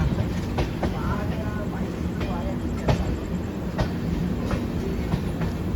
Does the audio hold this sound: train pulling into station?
yes